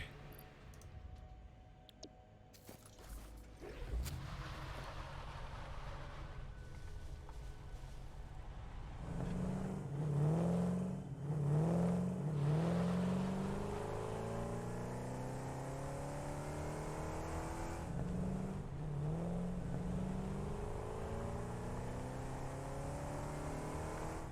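A car driving in the video game Satisfactory, a steady engine drone that climbs in pitch as it accelerates, with gear-like rising whines repeating, under quiet background talk.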